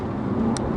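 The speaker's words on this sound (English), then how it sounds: "we've got about 510 horsepower Italian horses chucking us along this bit of road" A 510-horsepower Alfa Romeo Giulia Quadrifoglio drives along a road, a brief steady engine and road drone heard from inside the car, loud and continuous.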